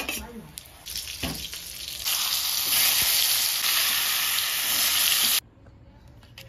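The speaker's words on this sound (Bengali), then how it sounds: "হালকা ভাজবো, পটলগুলো বেশি ভাজবো না" Pointed gourd (potol) frying in oil, a loud dense sizzle that swells midway and cuts off abruptly near the end as the pan is taken off the heat.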